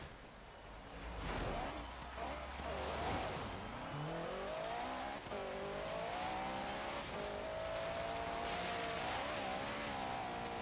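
A 2016 Vauxhall Corsa VXR on a snowy hill climb in Forza Horizon 3 revs hard, its engine note climbing and holding a steady high drone through gear changes, fairly close and continuous.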